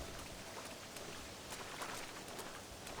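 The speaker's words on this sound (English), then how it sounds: "It's raining. You can hear the thunder." Steady rain in the Red Dead Redemption video game, a dense even hiss of falling drops on surfaces, fairly quiet and continuous with no voices over it.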